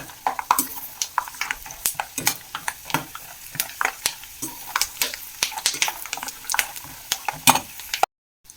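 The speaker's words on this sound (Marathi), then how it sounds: "छान शेंगा भाजून घेऊ" Peanuts roasting in a pan for corn chivda, stirred with a spoon that scrapes and knocks the pan in quick irregular strokes over a soft dry sizzle, close and fairly loud, with no talk.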